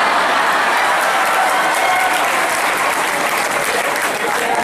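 Loud, sustained applause fills a college hall during a speech, a thick continuous roar of many hands clapping together at close range with no break.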